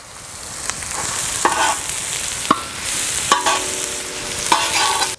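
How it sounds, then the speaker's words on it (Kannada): Three-quarters of a kilo of onions roasting on a tawa give off a loud, steady sizzle punctuated by a handful of crisp scraping and tapping strokes as they are stirred. "ಈಗ ಈರುಳ್ಳಿ ಹಾಕೋತಾ ಇದ್ದೀನಿ, ಒಂದು 3/4 kg."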